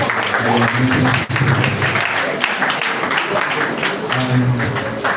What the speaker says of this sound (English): a round of applause once again for our speakers